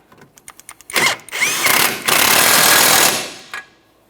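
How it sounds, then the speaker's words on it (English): An impact wrench tightens the rear shock mounting nut on a 2007-2017 Jeep Patriot, a few quick rattling taps followed by a loud sustained buzzing whir lasting about two seconds, then a short final burst. "We'll tighten up the nut."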